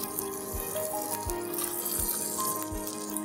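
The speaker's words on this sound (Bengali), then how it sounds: "চালটা আমরা যত ভালো করে ভাজবো তত ঝরঝরা হবে" Rice frying and being stirred in a pan for hilsa pulao, a steady close sizzle with soft rhythmic scraping and rattling as the grains are turned.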